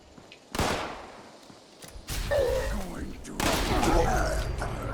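Plasma weapon fire against super mutants in Fallout 76, with several loud, bursting energy shots and booms in quick succession that build into a dense, sustained volley.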